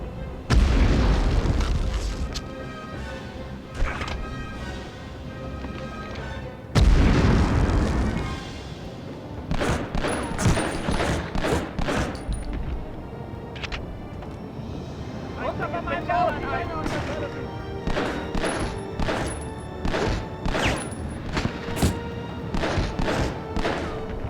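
Grenades go off in the video game Medal of Honor, with two deep booming blasts early on and then crackling gunfire and smaller impacts. Someone talks over the game audio throughout.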